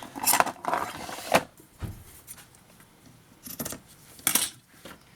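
Several short, crisp snips of scissors cutting scrapbooking paper, scattered irregularly and close by, with quiet pauses between cuts.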